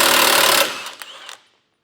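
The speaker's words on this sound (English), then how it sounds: "We need to remove our tow hooks on both sides. So there's two 15mm bolts on the bottom." Impact wrench rattling loudly at a steady buzz while backing out 15mm tow hook bolts under a 2025 vehicle, cutting off after about half a second and trailing into quieter clinks.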